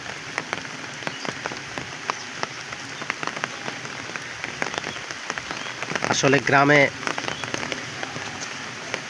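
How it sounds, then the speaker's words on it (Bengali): Light drizzle falls over a village, a steady fine patter with scattered sharper drops, and someone talks briefly partway through over the rain. "এই যে বৃষ্টি হচ্ছে দেখেন, গুড়ি গুড়ি বৃষ্টি হচ্ছে।"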